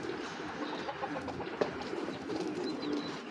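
Big-sized pigeons, including a very large hen, coo softly and continuously at close range, with faint chirps and rustling in the loft.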